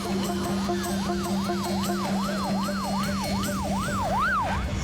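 A futuristic high-speed ambulance siren wails in a steady rising-and-falling yelp, loud and continuous over a sustained low engine drone, with no talking.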